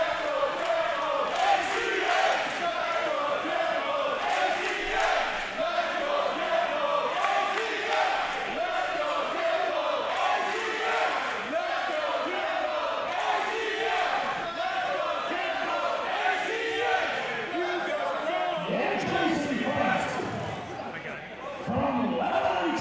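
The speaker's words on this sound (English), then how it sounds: "They're cheering for one of the top superstars here in Inspire Pro Wrestling in the last year." A packed Inspire Pro Wrestling crowd chants and cheers loudly and steadily throughout, a dense roar of many voices with rhythmic shouting, thinning slightly near the end.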